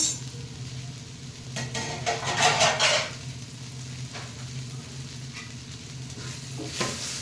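Drumstick greens (moringa leaves) sizzle steadily in a pan on medium flame as a covering plate is lifted off, with a louder rattle and hiss in the middle of the continuous frying.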